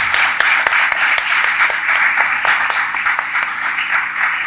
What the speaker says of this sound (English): please, a big applause for her